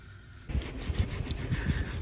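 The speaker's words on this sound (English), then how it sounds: "I am wet sanding this" Wet sanding of fresh gel coat patched over a gouge on a boat bow, a steady low rubbing scrape that starts abruptly and keeps going in uneven back-and-forth strokes.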